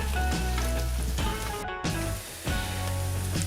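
Chopped garlic, four cloves, sizzles and crackles steadily in hot oil in a pan as the start of a marinara sauce, close and fairly loud, with a brief stir that dips the sound midway.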